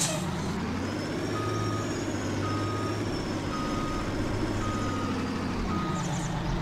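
A truck's reversing alarm beeps while it backs up a trailer in Farming Simulator 19, with evenly spaced beeps repeating over a steady engine rumble and a faint high tone.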